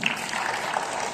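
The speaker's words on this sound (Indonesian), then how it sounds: "Boleh tepuk tangannya dulu nggak?" Brief applause from a talk show audience, a soft and even patter of clapping with no voices over it.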